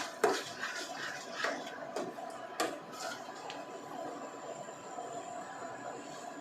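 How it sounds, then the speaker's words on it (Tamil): Red poha kesari stirred in a pan with roasted cashews and raisins folded in: a few clinking scrapes of a spoon on metal early on, then a soft continuous scraping and hum, close by and moderately quiet. "நல்லா கிளறிட்டு"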